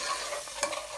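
Onions for a handi chicken tikka aloo bhuna get stirred in a pan over low to medium heat, a brief close scrape of the spoon over a steady soft sizzle.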